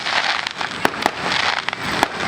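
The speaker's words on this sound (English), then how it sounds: "Those fireworks are showing off the beginning of the bull riding show for the evening." Fireworks bang at a county fair in Elk River, Minnesota, opening an evening bull riding show: several sharp pops and crackles burst at uneven intervals over a hissing crowd background.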